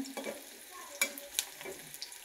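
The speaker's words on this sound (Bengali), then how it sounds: "তেলটা গরম হয়ে গেছে, এই যে পেঁয়াজগুলো ভাজা হচ্ছে" Onions frying in hot oil for a hilsa fish bhugli dish, a soft steady sizzle with a few clinks and stirring scrapes, close and fairly quiet, no talking.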